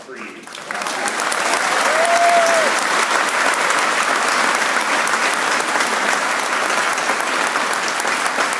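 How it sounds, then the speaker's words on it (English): A large audience breaks into loud, sustained applause that swells after a quieter start and holds steady as a dense wash of clapping, with a brief voice heard early on. "let's give a round of applause to him"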